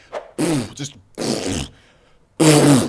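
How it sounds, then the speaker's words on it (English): Three separate fart sound effects, each a loud, buzzy blast of about half a second, spaced apart with short silent gaps between them. "fart noises are the sound of saving money, by the way"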